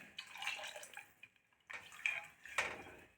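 Water splashes and trickles into a metal cooking pan for pumpkin soup in a few short bursts with pauses between, fairly soft and close.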